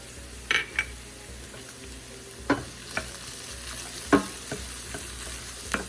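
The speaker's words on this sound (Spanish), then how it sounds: "esperamos que se fría también el ajo" Onion and garlic fry in a skillet, with a constant sizzle under repeated stirring strokes and metallic clinks of the utensil against the pan.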